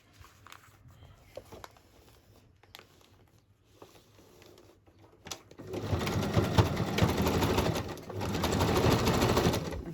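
Sewing machine zigzag stitching around a boho journal cover: quiet handling and a few faint taps at first, then a loud, rapid mechanical whirring run of stitches with a brief pause partway through, close by.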